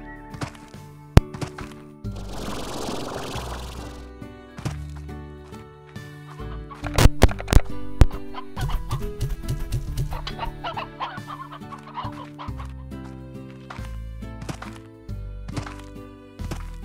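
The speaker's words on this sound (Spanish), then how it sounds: "Vamos a dejar sus pollitos en su lugar." Chickens clucking in the Slime Rancher video game, repeated game-animal clucks and thunks over a steady background music bed, with no talking.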